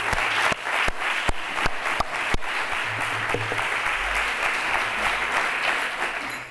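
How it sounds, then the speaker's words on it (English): Audience applause for an organizing committee at a pain science lecture, dense steady clapping from a room of listeners with a few sharp close claps standing out early on. "we give the organization committee a big applause for what they"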